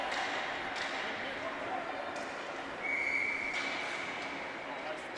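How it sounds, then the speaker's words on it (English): A referee's whistle blows for a high-sticking call during a college ice hockey game between Maine and Massachusetts, a short shrill tone rising briefly over steady arena crowd noise and commentary. "Looks like we got a whistle here."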